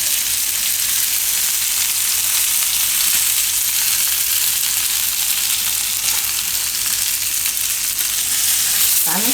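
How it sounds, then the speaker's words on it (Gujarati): Paneer pieces frying in hot oil on their second side for a tomato paneer dish, giving a loud, steady, unbroken sizzle throughout, with a faint clink near the end. "થોડીક વાર આ રીતે બીજી બાજુ શેકી લેવું."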